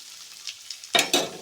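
Onions hitting hot tempering oil with dried red chillies and spices, two loud bursts of sizzle and stirring after a faint quiet start, close by with no talk.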